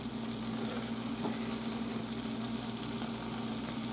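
Meat frying in a generous amount of butter in a pan, a steady close sizzle and crackle that holds for the whole stretch with no talking.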